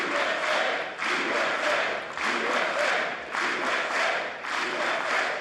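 A large audience in the US Congress applauds Israel's prime minister in sustained, dense clapping that swells and dips in waves, loud and continuous without pause.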